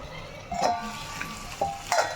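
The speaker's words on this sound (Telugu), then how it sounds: "ఇవి టమాటాలు మగ్గిపోవడం." Tomatoes cooking down in a pan with chili powder and curry leaves, a steady soft sizzle with a couple of louder stirring scrapes near the middle and end, no voices.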